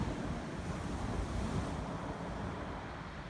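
Sea waves wash onto the South Devon coast at night, a steady, broad roar of surf with wind buffeting the microphone, continuous and fairly faint with no voices.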